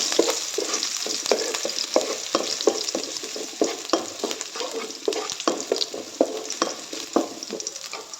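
Ginger and garlic fry in hot oil for vegetable noodles, a continuous close sizzle broken by regular scraping stirs of a spatula against the pan.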